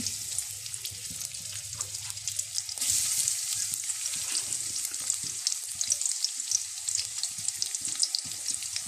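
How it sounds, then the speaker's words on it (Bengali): Chopped onion frying in oil in a karahi on a stove, a steady close sizzle throughout with light crackle and occasional stirring scrapes, no talking. "পেঁয়াজটাকে একটু ভেজে নেব"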